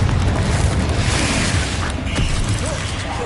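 A Confringo blasting spell explodes in the Hogwarts Legacy video game: a dense, rumbling burst of noise with mechanical rattles and creaks fills the whole stretch at steady loudness.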